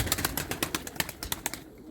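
Pigeons of a fancy tailed breed, kept with their young in a loft, coo and stir in a quick series of soft, evenly spaced pulses close by, with no talk over them.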